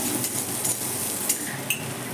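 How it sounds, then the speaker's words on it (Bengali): Chopped onion, garlic and cumin frying in oil in a pan, a soft steady sizzle close by with a couple of light utensil clinks against the pan. "এবার সমস্তটা ভালো করে প্রথমে ভেজে দেবো"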